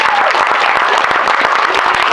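A brief, close round of clapping from a family reunion gathering on a host family's property, dense and steady with no voices over it.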